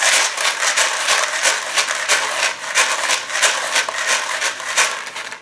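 A homemade shaker stapled shut and filled with popcorn kernels, rattled steadily in quick, even shakes, producing a loud continuous dry pattering with no voices.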